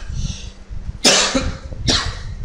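A person coughs sharply twice, close and loud, the hacks separated by a short pause, with a little low background murmur in between and no talk.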